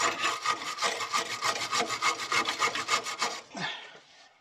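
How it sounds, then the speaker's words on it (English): A wire brush scrubs rapidly back and forth on a Renault fuel filter bracket on a Vauxhall Vivaro, a close, rhythmic rasping of about twenty strokes that stops abruptly near the end. "give that a bit of lubrication, give it a bit of a wire brush"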